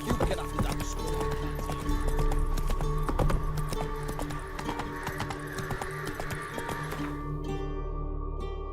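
Roach, Geralt's horse in The Witcher 3 video game, gallops with steady clip-clopping hooves over a dense game soundscape with some speech-like sound, the hoofbeats thinning out near the end.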